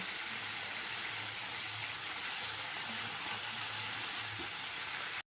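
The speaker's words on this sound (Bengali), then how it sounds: "আদা কাঁচা লঙ্কা টমেটোর পেস্টটা খুব ভালো মতো কষিয়ে নেওয়া হয়ে গেছে" Ginger, green chilli and tomato paste sizzle and fry steadily in a hot pan, a continuous close crackle with faint stirring scrapes underneath and no talk.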